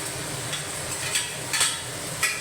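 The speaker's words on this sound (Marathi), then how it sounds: "त्याच्यानंतर वांगं घालते मी त्याच्याबरोबरच मी थोडासा फ्लावर घालते शिमला मिरची घालते" Eggplant, cauliflower and capsicum go into a frying pan, giving a steady low sizzle with a few brief scraping and clattering stirs near the middle and end.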